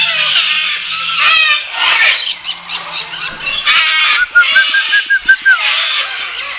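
Fancy pigeons of a large breed, kept in an elaborate bird setup in Punjab, Pakistan, give a run of close, shrill squealing calls, some drawn out and some in quick bursts.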